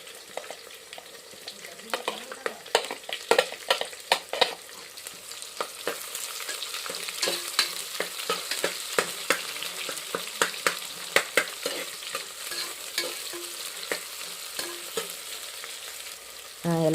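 Onions frying in a pan in a village kitchen while cooking green pea pulao, a steady close sizzle broken by frequent sharp scraping clicks of a spoon stirring throughout.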